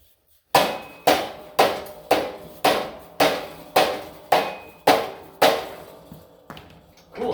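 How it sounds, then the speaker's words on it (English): A steady run of about a dozen firm dead blow hammer blows, evenly paced near two per second, each a dull close thud with brief ring. "we're gonna take a dead blow hammer."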